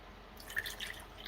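Water drips while someone fetches a drink, a few faint, close drops landing one after another in a quiet room.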